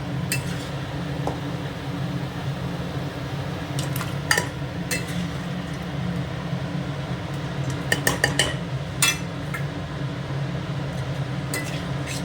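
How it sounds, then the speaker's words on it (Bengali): Raw mutton being washed in a pot before pressure cooking, metal clinks and scrapes of the pot and utensils scattered over a steady low kitchen hum, with no talking. "এবার আমি মাংসটা আস্তে আস্তে ধুয়ে প্রেশারে দিতে দিই"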